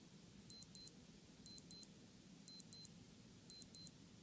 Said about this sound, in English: if you want to listen to your alarm or test it, you can press and hold the start and stop button